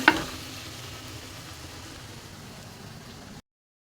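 Rice stirred in a cooking pan while making vegetable bhuna khichuri, giving a soft, steady sizzling hiss after a brief clink at the start, then cutting off abruptly.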